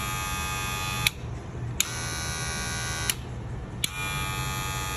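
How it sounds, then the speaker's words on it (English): A Gamma DC super torque motor fitted in a Wahl Magic Clip hair clipper runs with a steady high-pitched electric hum and buzz, broken by four brief clicks or pauses, close up with no talking. "This is the new motor, DC super torque motor."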